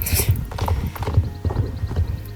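Pony hooves in a ranch video game clip-clop in a steady, close rhythm as the rider moves along, with no talking over the footfalls.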